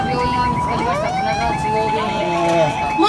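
Ambulance siren sweeping up and down in pitch, steady and fairly loud as the vehicle approaches, with voices talking faintly underneath.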